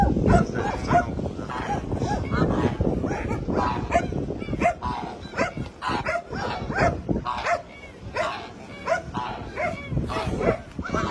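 Several dogs bark and yip on a farm where roosters are kept, a busy overlapping run of barks and whimpers that goes on nonstop, with people talking loudly among them.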